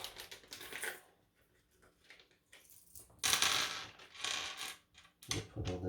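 A pack of bolts and washers for a laser engraver is set down, producing several short metallic clinks and rustling bursts separated by quiet pauses, close to the microphone.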